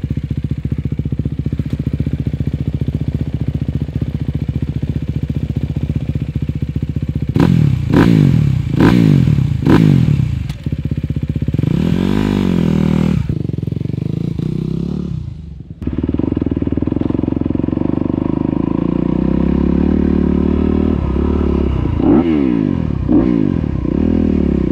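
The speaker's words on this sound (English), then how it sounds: "we're gonna hop back on the bike and see if we can put together at least 5 laps" A motocross dirt bike lapping a track drones loudly and continuously, with repeated revving surges, clattering bumps and a brief drop in engine noise midway, heard close from the rider's position.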